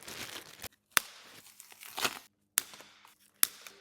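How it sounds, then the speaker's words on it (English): Plastic packaging being pulled and torn off a boxed bicycle: loud crinkling and tearing bursts with several sharp rips, separated by brief pauses, close to the microphone. "we'll just start getting all the packaging off"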